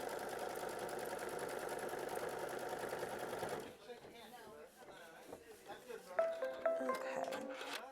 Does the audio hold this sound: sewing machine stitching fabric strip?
yes